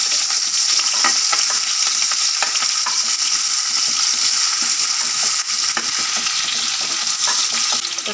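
Onions sautéing in hot oil with a pinch of fennel seeds in a pan, a steady close sizzle with scattered crackles and stirring scrapes throughout, no voices.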